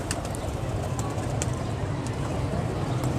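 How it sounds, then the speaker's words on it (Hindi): An Indian hen pigeon cooing softly while held in the hand, a low steady murmur that runs throughout beneath constant background noise. "वसीम भाई ये इंडियन कबूतरी पकड़ी है"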